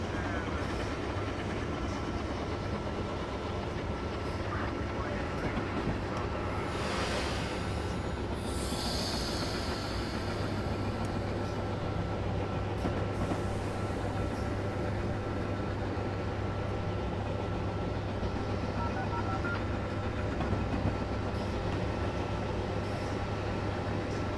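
Locomotive running along track on the Northeast Corridor in Train Simulator 2017, a steady rolling rumble and hum with a brief higher squeal midway, continuous and even without pauses.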